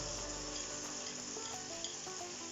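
Steady sizzling of food sautéing in a pan, canned sardines cooked Jamaican style before onion and garlic go in, a continuous dense hiss at low volume with a few faint clinks, no voices.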